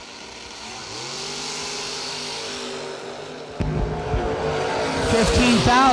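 A Corvette launches down a drag strip: a loud engine roar builds, then surges into a harsher, rising burst with some tire squeal, with crowd or announcer-style noise underneath.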